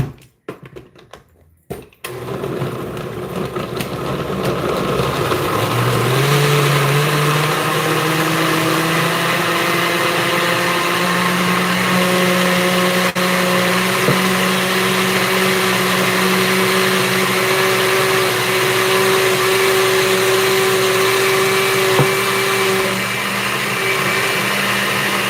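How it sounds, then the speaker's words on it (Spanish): A blender whirs salsa for chicken enchiladas, starting with a few brief clunks, then ramping up into a loud, steady motor roar that holds close and unbroken for about twenty seconds. "para que licuemos la salsita"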